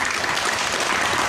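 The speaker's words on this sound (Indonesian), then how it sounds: "Ibu Bapak, kita tepuk tangan." Audience applause closing a Ramadan religious study session: a brief, dense burst of many hands clapping together, steady and fairly loud throughout, with no voices.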